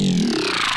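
Gritty Growl synth preset with post processing applied: a short, dense, gritty growl under a second long, bright and wide with a shifting pitch and sustained loudness throughout.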